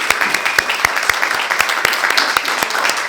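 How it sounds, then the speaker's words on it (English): Theatre audience applause for a panel at the Blackfriars, a dense, steady wash of many hands clapping, with individual sharp claps standing out throughout, full and loud with no break. "One more round of applause for our fabulous panel of people"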